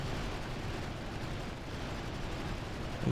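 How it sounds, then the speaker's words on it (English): Frag grenade explosions in Wargame: European Escalation, a rough, continuous rumble of blasts and battle noise at moderate distance, with a sharper burst right at the end. "They're throwing those frags."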